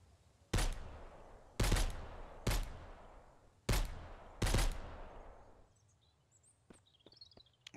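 Five sharp M4 rifle shots ring out at long range in the Mist Survival game, each blast trailing off in a long echoing decay, followed by faint chirping birds in the quiet afterward.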